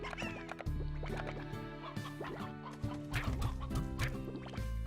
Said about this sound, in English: Let's take this one. This chicken.